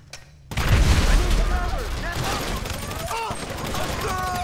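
In GTA 5, a grenade bursts after a brief quiet moment, and a loud sustained volley of gunfire follows close by, with a few voices faintly mixed in.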